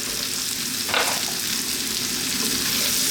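Fish tossed into a wok over high heat for a sweet and spicy Chinese dish sets off a strong, steady sizzle, with a brief louder hiss as it lands and no voices.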